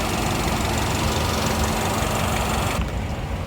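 A Ssangyong KGM Torres SUV engine runs with a steady, loud, close rumble and broad hiss, its brighter edge dropping away shortly before the end.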